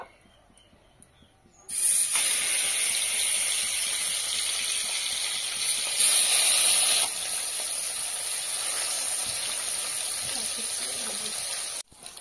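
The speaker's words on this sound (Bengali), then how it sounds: "তেলটা গরম হয়ে গেছে, তো এখন আমি মাছগুলো ভেজে নেব।" After a quiet start, a loud, steady sizzling hiss begins abruptly and holds as fish is dropped into hot oil, continuing close and even throughout.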